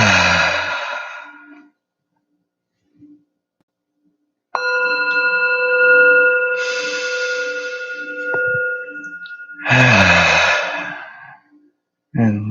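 A meditation bell is tapped once during an evening guided relaxation session, ringing with a sustained, steady tone that lingers several seconds alone between quiet stretches of a sighing voice.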